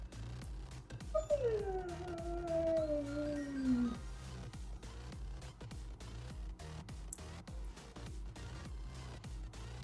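A dog whines in a long, falling, howl-like cry for a few seconds, then quiets, heard over steady indoor background noise without talk.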